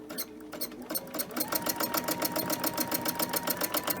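Sewing machine running steadily for free motion quilting on a bag, a close rapid mechanical stitching rhythm that starts after a brief pause and continues evenly.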